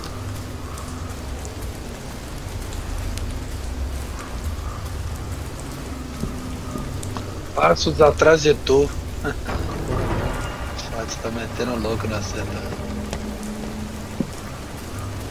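Steady rain falls in a forest during Fears to Fathom: Ironbark Lookout, a constant soft hiss under someone talking, with a brief louder burst of rumble midway.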